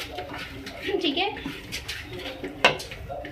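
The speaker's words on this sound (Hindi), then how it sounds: "इसको चलाएंगे, मिक्स करेंगे" Stirring a pot of chicken pulao rice, 1 kg of rice with chicken, giving soft scraping and clinks of a spoon against metal, ending in one sharper knock, with someone speaking briefly over it.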